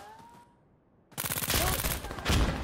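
Suppressed submachine gun fire in Insurgency: Sandstorm on Xbox Series X: after a second of quiet, loud rapid bursts of muffled shots crackle close by for over a second and a half.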